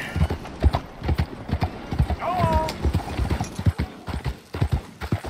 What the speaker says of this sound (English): Should I just ride my horse in here?